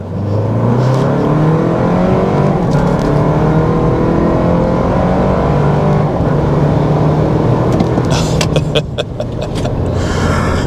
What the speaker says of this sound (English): Let's brake torque it for fun. So foot all the way on the brake and the gas, release.